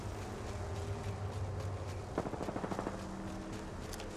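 Gunfire in Apex Legends on World's Edge, faint and distant, with a short rapid burst of shots midway over steady ambient game noise.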